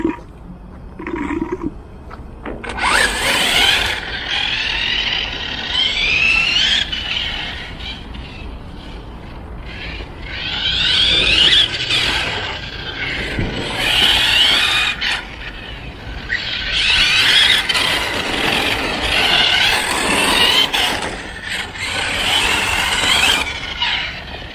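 A Hobao 10SC RC short-course car driven in cold weather on tires too cold for grip, with a high, whining motor that rises and falls in repeated bursts and squealing, skidding passes, moderately close and loud.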